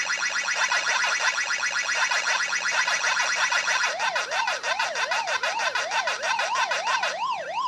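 Pac-Man game sounds from a Kyocera Echo phone speaker: rapid repeating electronic chirps, then warbling siren-like sweeps rising and falling in a steady loop.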